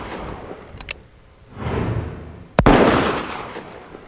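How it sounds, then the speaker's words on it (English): A Magnum handgun fires at a firing range: one sharp, loud report with a reverberant tail, following fainter earlier pops and a swelling rumble of range noise. "firing Magnums old and new makes a trip to the firing range an experience to remember"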